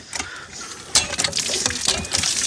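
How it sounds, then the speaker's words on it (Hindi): A hand pump is worked to draw water outdoors, giving repeated metallic clanks and squeaks with splashing water, loud and close. "आपको हैंड पंप चला के भी दिखाता हूँ।"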